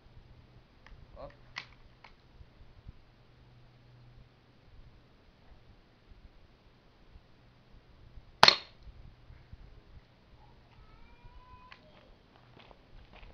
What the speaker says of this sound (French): Je tire sur le pot de Nutella.